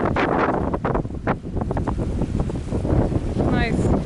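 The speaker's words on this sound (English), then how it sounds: "It's so windy. This video is going to be nothing but Wind." Steady wind buffets the microphone on a pier in low rumbling gusts throughout, with faint voices partly buried beneath it and a brief high chirp near the end.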